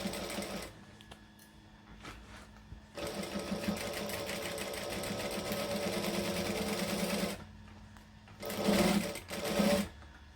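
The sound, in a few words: sewing machine back stitching a camera bag seam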